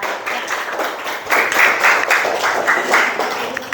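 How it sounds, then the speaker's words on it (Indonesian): A classroom of students applauding a group after its presentation, a brief burst of clapping that swells midway and continues steadily at moderate loudness. "Tepuk tangan untuk kelompok 3."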